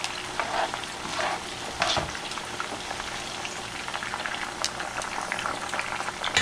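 Banana, sweet potato and yuca chips fry in hot oil with a steady, close bubbling sizzle, broken by a few brief stirring clatters.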